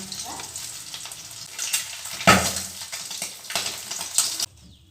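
Eggs fry in hot oil in a wok, sizzling with sharp pops and spattering bursts, close up, ending abruptly.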